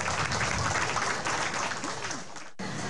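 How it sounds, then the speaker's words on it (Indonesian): Audience applause from people gathered at a street-vendor (PKL) food area, dense steady clapping that fills the scene loudly and then cuts off briefly near the end before resuming. "Boleh dong tepuk tangan yang ada di sini?"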